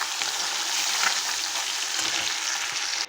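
Oil sizzling steadily in a hot wok after fish has been fried out of it, a dense, continuous frying hiss close up, with no talk, cutting off abruptly at the end.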